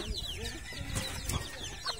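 Native farm chickens cluck and squabble close by, several overlapping calls with a rooster among them, while a person talks over the flock.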